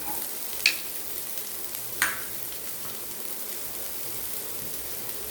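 Beans, cabbage, carrot and capsicum sauté in a pan for vegetable soup, giving a soft, steady sizzle with two sharp clinks of stirring early on.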